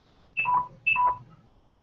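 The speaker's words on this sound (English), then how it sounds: "Got my phone going off." Two short electronic chirps from a mobile phone's text notification, each a bright high tone followed by a lower one, about half a second apart, close and clear with no talking.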